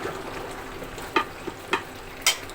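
Meat curry cooking in a pot on a home stove, a soft steady simmer with a few light clinks or stirring knocks over faint background noise.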